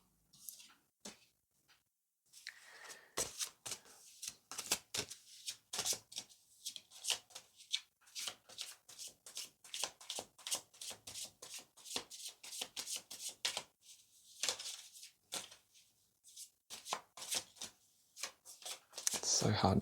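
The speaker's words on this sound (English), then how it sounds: "It's so hard to shuffle like this with my hands stretched out forward." Tarot cards riffle and snap in rapid repeated bursts, close by, continuing steadily for the whole stretch with brief pauses between shuffles.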